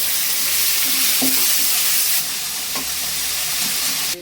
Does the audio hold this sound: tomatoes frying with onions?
yes